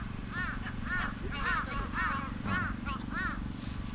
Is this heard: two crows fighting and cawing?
yes